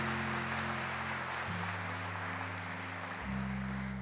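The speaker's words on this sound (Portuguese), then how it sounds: "Vamos aplaudir a Renovação Carismática Católica em todo o mundo." Applause from a Catholic Charismatic Renewal church audience forms a dense, steady wash of many clapping hands, sustained alongside held organ or keyboard tones that step between chords.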